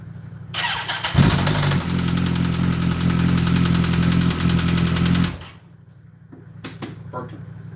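A broken Kawasaki ZX14 motorcycle that ran out of oil is cranked, fires and runs loud and close with a harsh, rough roar for about four seconds, then shuts off. A few faint knocks follow, and a voice is briefly present.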